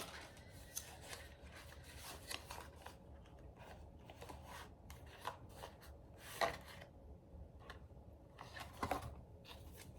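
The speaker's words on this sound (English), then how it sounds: "I like the way that they shuffle." A Lo Scarabeo tarot deck rustles and flicks as it is shuffled, soft papery riffles with a few sharper snaps, close by and fairly quiet.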